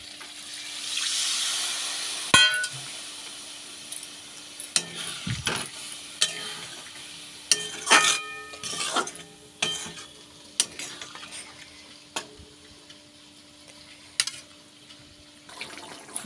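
Curry stirred in a pan on the stove, with a sizzling bed and a run of distinct spoon scrapes and clinks against the pan, some sharp and close, spaced irregularly over quiet simmering.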